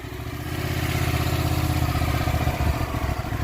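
A motorcycle engine on a category A riding exam pulls away with a close, steady, throbbing drone that builds slightly as it moves off.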